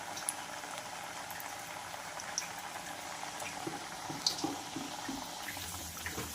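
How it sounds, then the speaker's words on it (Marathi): Chana dal vadas deep-fry in oil over medium heat, making a soft, continuous bubbling with occasional brief pops and clicks at a modest level. "छान असं फ्राय करून घ्यायचं आहे मीडियम गॅसवर"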